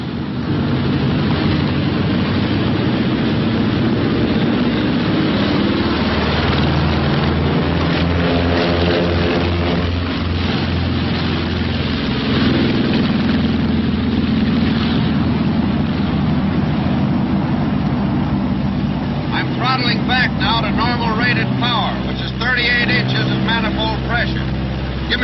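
Twin engines of a B-26 bomber roar through takeoff in a loud, unbroken propeller drone that shifts in pitch as the aircraft gathers speed, with a voice speaking over it at times.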